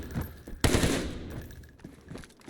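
Fully automatic weapon fire in the game DayZ: a loud sustained burst of rapid shots that erupts sharply and rattles on for over a second before tailing off, preceded by a few quieter thumps.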